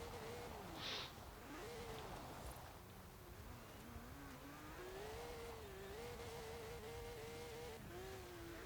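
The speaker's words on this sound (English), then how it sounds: "We're now at a point where all the engines sound the freaking same." Car engines in Forza Horizon 4 hum and drone steadily, their pitch wobbling up and down as they rev and shift, with a brief higher whine early on and no talk over it.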